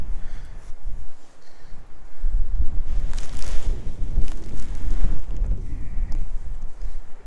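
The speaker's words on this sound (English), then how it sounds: "Wind is blowing this like crazy." Strong gusty wind at Mammoth Lakes buffets the microphone with loud, continuous low rumbling and rushing that swells and eases over several seconds.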